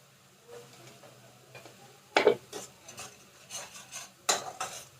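Mashed thankuni leaves with garlic are sautéed in mustard oil, a spatula scraping and clinking against the pan in a few sharp strokes between quieter stirring and a faint sizzle.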